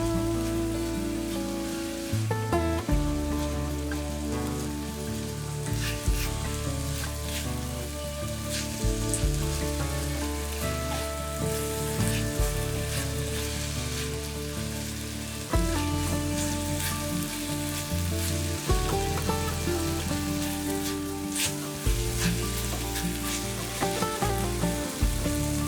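Garlic and ginger fry in a wok for bourbon chicken. A steady, close sizzle runs the whole time, mixed with occasional scraping stir sounds and pops. No voices.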